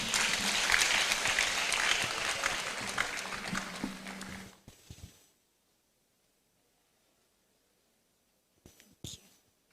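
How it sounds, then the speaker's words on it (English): Audience applause fills a hall at a Supreme Court 150th anniversary celebration in Ghana, loud and dense for about four seconds, then fading out into silence with a couple of faint knocks near the end. "Please, a big round of applause."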